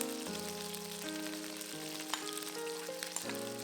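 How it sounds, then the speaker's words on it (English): Garlic, ginger and the white parts of spring onions frying in oil in a pan beside cooked chicken, giving a continuous close sizzle with a few faint crackles and no talk. "Add a little more oil if necessary and fry the aromatics."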